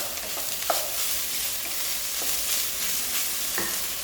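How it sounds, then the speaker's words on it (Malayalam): Rice is stirred and fried in a hot pan for fried rice. A continuous sizzle carries soft scraping from the spatula, with sharper taps about every second, close by and without speech. "കുറച്ച് റൈസ് ഇട്ട് കൊടുക്കാം. എന്നിട്ട് മിക്സ് ചെയ്യാം."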